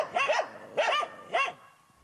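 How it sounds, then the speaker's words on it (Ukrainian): Guard dogs watching over a fenced site bark three times in quick succession, sharp and fairly close, then fall silent. "Територію охороняють собаки."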